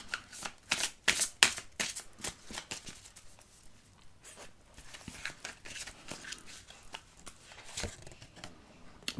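Tarot cards being reshuffled by hand during a love reading, a run of crisp riffling and slapping bursts, loudest early and then continuing more softly, with no talk.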